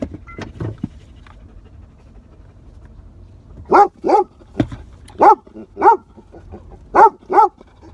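A pet dog indoors barks in short paired bursts, loud and close, after a stretch of quiet panting and faint shuffling; no talking over it.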